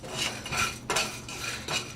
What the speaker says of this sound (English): I've added all the whole spices in a frying pan and I switched on the burner